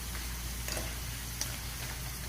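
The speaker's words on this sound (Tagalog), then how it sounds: "May mga less than 1 minute lang po yung pagprito natin." Bitter melon and moringa sizzle and crackle in hot oil, a steady frying hiss with occasional small pops, fairly quiet and with no talking.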